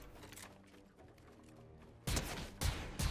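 Star Wars blaster rifle firing in Fortnite, three sharp, loud shots after a quiet stretch, spaced about half a second apart with a slow cadence.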